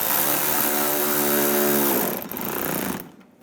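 A power tool whirs steadily, driving bumper screws on a 2011-2015 Chevy Cruze, close and loud for about two seconds before slowing and trailing off into silence.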